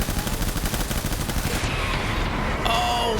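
Rapid bursts of gunfire from the video game Death Stranding, a dense, continuous volley of shots that fills the whole stretch at steady loudness, with a brief high electronic tone near the end.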